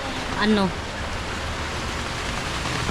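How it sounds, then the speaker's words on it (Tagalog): Heavy rain pouring steadily outdoors, a dense even hiss throughout, with a brief voice heard near the start. "Super ulan na dito"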